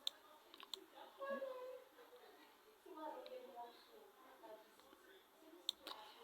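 A computer mouse clicks a few times in quick succession, crisp and close, with brief sharp taps near the start and end while someone talks over the faint room tone.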